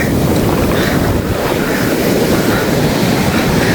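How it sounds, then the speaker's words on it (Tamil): Heavy surf at Mirissa beach, Sri Lanka, pounds in a constant loud roar while strong wind rumbles across the microphone throughout. "கடல் அலை மட்டும் பாருங்க பயங்கர அலையாக இருக்குது"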